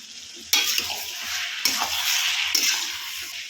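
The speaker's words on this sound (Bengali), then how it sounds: "লাউয়ের জলটা একটু শুকানো পর্যন্ত অপেক্ষা করব মাঝে মধ্যে এসে নাড়াচাড়া করে দিয়ে যাব" Bottle gourd cooking down in its own water in a pan, a steady bubbling sizzle punctuated by three abrupt stirring scrapes, close and moderately loud, no voices.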